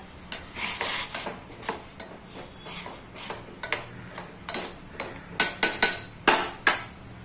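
Yippee Maggi noodles with masala are stirred in a pan, a utensil tapping and scraping the pan in a steady series of short clicks that grow quicker and sharper toward the end, close up and without talk.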